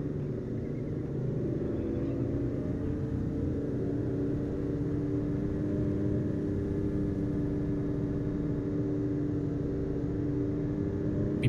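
A car drives steadily in Final Fantasy XV, its engine giving a continuous mid-range rumble that holds at one level throughout with no voices.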